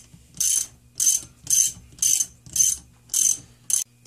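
Ratchet tightening the camshaft position sensor bolt on a Ford Focus 2.0L SOHC SPI engine, with seven regular bursts of close, crisp clicking at an even pace and brief pauses between strokes.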